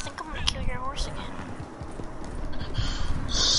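Horse hooves clip-clopping in the Red Dead Redemption 2 video game, rhythmic hoofbeats with a brief whinny, under people talking over game chat.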